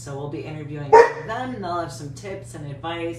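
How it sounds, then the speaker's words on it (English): A dog barks once, briefly and at moderate distance, under steady speech from someone talking throughout. "Sorry about the dog barking."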